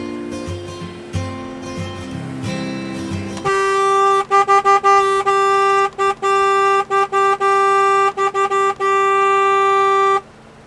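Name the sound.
car horns honking in video game GTA 3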